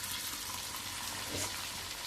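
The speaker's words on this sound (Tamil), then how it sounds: "நல்லா கொஞ்சம் கொஞ்சமாக போட்டு பொரிச்சு எடுத்துக்கலாம்." Marinated meat frying in hot oil, a steady close sizzle and crackle that fills the whole moment without pause.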